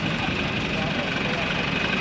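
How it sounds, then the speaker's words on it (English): A 2022 John Deere 2688 tractor engine idles at a farm auction. Its low, steady rumble runs under continuous crowd and auction talk. "So they're going to use a tractor to pull it forward."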